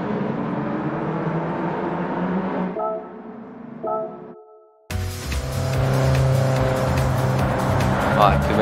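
A Volkswagen Golf GTI engine in Gran Turismo 7 revs and shifts through the gears, sometimes with tire squeal, a loud steady drone throughout, with someone talking over parts of it.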